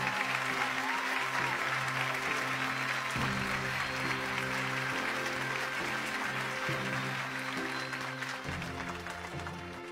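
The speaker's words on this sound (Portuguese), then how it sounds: "Queria pedir uma salva de palmas para todos eles." Audience applause at a TV Globo awards show, sustained clapping filling the hall under tonal music that plays throughout.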